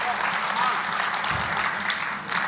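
Audience at a Hindi comedy and poetry show applauds, a dense burst of clapping from a large crowd filling the whole moment, steady and fairly loud, with no talk over it.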